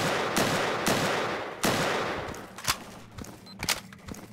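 Bursts of hunting-rifle gunfire in STALKER: Call of Pripyat, with several loud shots early and sharper cracks later in the clip, set against a continuous rumbling background.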